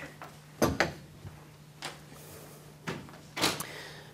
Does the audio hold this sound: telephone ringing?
no